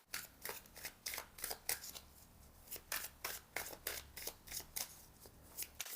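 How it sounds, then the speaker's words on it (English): Tarot cards shuffled and pulled up close, a quick run of about twenty crisp flicking riffles in an even, rapid rhythm, soft overall with no talk. "Let's pull 3 more cards here."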